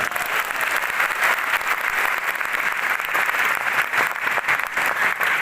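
A lecture-hall audience at a New Year welcome event in Lucknow claps steadily, a dense, even wash of applause that stays loud and continuous throughout, with no breaks.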